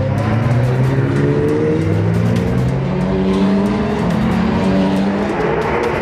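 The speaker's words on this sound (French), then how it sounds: "Donné à 15h45, ce tout dernier départ de la saison voit Carl Van de Vostin" Race cars in the ROSCAR final at Magny-Cours roar off together at the start, a loud, steady wall of layered engines rising in pitch as they accelerate, with no voices.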